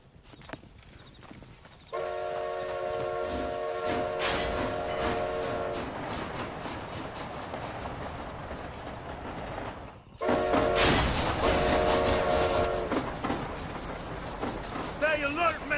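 A train runs in the Western video game Red Dead Redemption, a steady loud rumble and clatter with tonal whistle-like bands, growing louder partway through, with game voices speaking over it.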